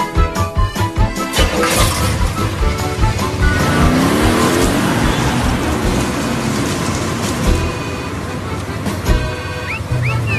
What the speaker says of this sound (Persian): موتور صداشو میشنوی